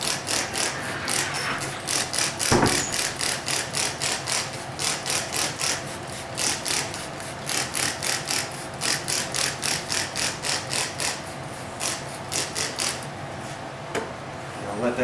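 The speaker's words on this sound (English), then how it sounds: "I'll take the same stuff that I'm using and I'll spray the release paper." A trigger spray bottle is pumped quickly over the release paper of a vinyl decal, giving a long run of short, even, quiet spritzing bursts.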